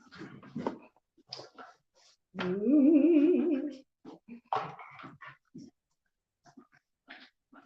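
A dog gives a drawn-out, wavering whimper after its tail is stepped on, lasting about a second and a half between stretches of close indoor conversation.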